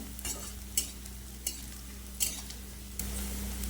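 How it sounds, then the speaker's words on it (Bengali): Onion and garlic fry in oil with black cumin in a pan, a steady low sizzle broken by a few sharp stirring scrapes and clinks, close and moderately loud, with no talking. "এবার পেঁয়াজ রসুনটাও ভেজে নেব পেঁয়াজটা একটু লাল লাল করে ভেজে নেব"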